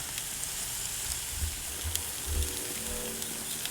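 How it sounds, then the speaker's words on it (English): Ribeye steaks sear on a Camp Chef grill with a continuous bright sizzling hiss, and a few low thumps as the meat is turned. "We're going to turn them over one more time, or 2 more times, to complete these sear marks on these steaks."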